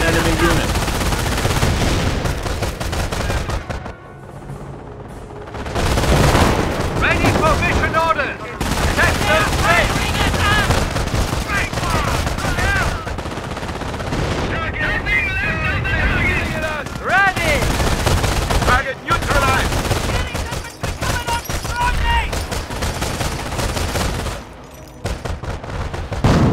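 Bursts of machine-gun fire and rifle shots crackle through a World War II battle in Company of Heroes, loud and near, broken by brief pauses, with shouted voices mixed in.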